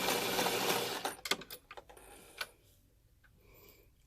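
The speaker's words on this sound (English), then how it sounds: "I'm just going to sew right across that pin and back stitch." A sewing machine stitches across a pin and back stitches while making a small chicken pin cushion; a steady close whir runs for about a second, then gives way to several sharp mechanical clicks and taps with no talking.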